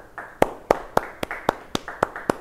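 A congregation claps in a church gathering, a run of eight or nine sharp, evenly spaced claps ringing out close and alone with no voices over them.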